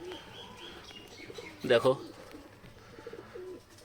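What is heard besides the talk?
domestic pigeons cooing near chick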